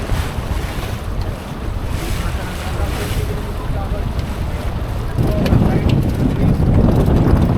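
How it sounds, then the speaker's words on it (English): Strong wind gusting to 25 knots roars across the microphone amid rushing waves and water against a sailboat hull in the Malacca Strait, loud and constant, growing heavier toward the end. "in winds gusting up to 25 knots"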